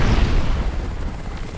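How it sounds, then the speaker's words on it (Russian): A helicopter in the video game Crysis, a loud, dense roar of rotor and engine noise with heavy low rumble, steady throughout with no talk. "Как с вертолетом разобраться?"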